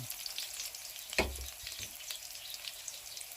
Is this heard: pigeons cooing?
no